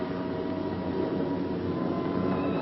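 Steady, dense drone of B-17 Flying Fortress bomber engines, a continuous broad roar holding level throughout with no voices, as the heavy four-engine aircraft approach.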